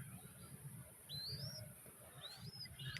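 Orphaned young dove chicks, one male and one female, hand-raised at home, give a few thin, high chirping calls at moderate distance over a low background rumble.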